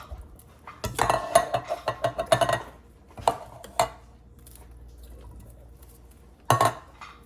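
Mushrooms and green beans tipped into a casserole dish of ground beef for a keto bake: a quick run of clattering utensil taps and soft thuds, then a few isolated knocks, close and moderately quiet, without speech.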